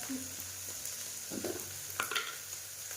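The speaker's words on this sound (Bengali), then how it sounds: "মশলাটা একটু কষাতে থাকি আর এদিকে এবার এই যে এটা দিয়ে দিয়েছি চাউমিনটাকে দিয়ে দিলাম" Spice paste and chow mein frying in a pan, a steady close sizzle with occasional stirring scrapes and clinks throughout.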